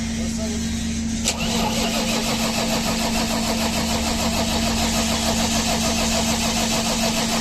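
A new generator engine cranked with its starter catches with a sharp click, then settles into a steady, close mechanical drone with a constant low hum and a buzzy rattle.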